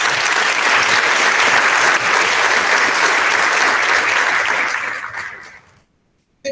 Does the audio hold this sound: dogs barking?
no